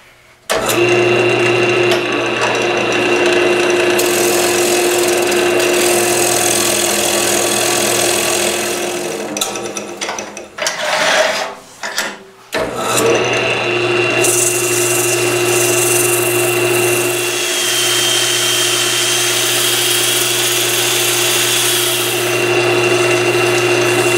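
A wood lathe spins steadily while a tool cuts the bottom of a maple bowl turned from a chunk of maple, a loud sustained hum and scraping that drops out briefly near the middle before the machine spins back up.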